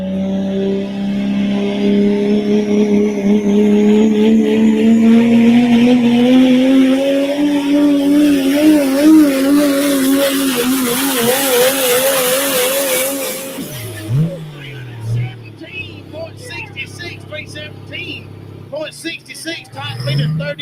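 Diesel pickup truck pulling a heavy sled at a truck pull event, engine roaring loud and climbing steadily in pitch for about fourteen seconds before cutting off, with an announcer talking over the run and afterward.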